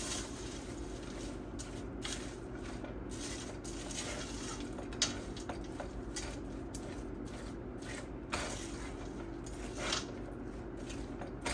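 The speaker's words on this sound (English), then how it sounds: "So we just want to get it all nice and coated in that peanut butter" Salted peanuts and crispy rice cereal are stirred into melted peanut butter, a quiet, continuous mixing with soft scraping and faint clinks of a utensil against the bowl, a few slightly louder knocks breaking the steady low rustle.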